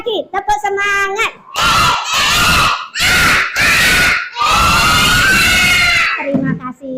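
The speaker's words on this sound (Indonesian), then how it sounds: "Sekali lagi, tepuk semangat." Schoolchildren shout a clapping chant together in loud, close bursts, several rhythmic phrases separated by short pauses, with claps mixed into the massed voices.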